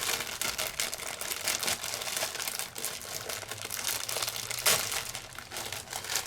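Plastic and paper packaging of a Spellbinders Slice of Life card kit crinkles and crackles as it is opened, continuous close rustling with a sharper tearing burst near the end.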